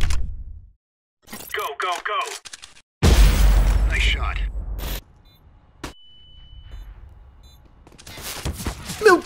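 Loud bursts of Counter-Strike gunfire break up excited talking, with a sharp crack followed by a sustained noisy blast and scattered shots near the end.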